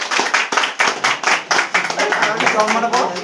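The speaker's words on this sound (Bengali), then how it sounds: "হাততালি মারো, হাততালি দাও, হাততালি দাও।" A small group claps together at a club's trophy presentation for a sound system operator, producing a quick run of close, rhythmic claps with voices underneath.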